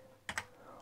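Two quick key clicks on an Amstrad computer keyboard, close and crisp, over a faint steady hum.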